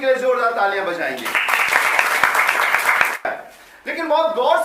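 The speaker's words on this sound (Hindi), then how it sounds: "यीशु मसीह के लिए जोरदार तालियां बजाएंगे।" A church congregation at a Sunday morning service breaks into loud, dense applause for about two seconds, with voices speaking just before and after the clapping.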